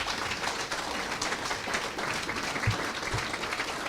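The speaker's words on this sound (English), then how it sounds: "will you please give a round of applause for our panel?" A room full of people applauds a community discussion panel on the Black experience in LaPorte County, steady dense clapping at moderate level throughout.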